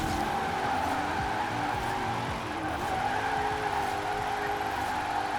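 A 2020 Shelby GT500 roars continuously in Forza Horizon 4, its engine note rising and falling through the gears with repeated tire squeal and skidding as the car slides, loud and steady throughout.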